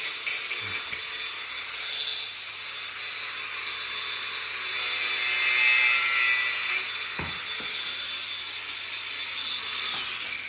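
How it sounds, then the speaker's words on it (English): Angle grinder cutting through seized bolts on a BMX bike, a steady high-pitched grinding whine held for several seconds with a few knocks, moderately loud and close. "We've got to get the old angle grinder out."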